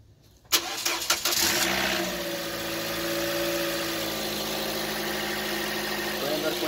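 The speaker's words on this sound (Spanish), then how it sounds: "Vamos a encender el vehículo para ver qué es lo que hace ahora." A 2014 Toyota Corolla, just repaired after a shorted fuse kept it from starting, cranks briefly and catches, then settles into a steady, fairly loud idle that runs close by to the end.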